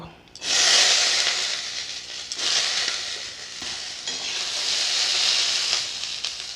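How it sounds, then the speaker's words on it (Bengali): Yardlong beans sizzle in hot oil in a wok, loud and close, the frying hiss surging in three waves as they are stirred, with faint pan scrapes. "তো বরবটিগুলোও ভেজে নেব"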